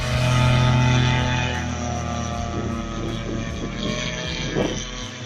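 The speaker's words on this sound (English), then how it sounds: "This gyroplane was not meant to take off." A gyroplane on a runway attempting to take off, its engine and propeller droning loudly and steadily, the tone wavering and fluttering as the machine strains without lifting.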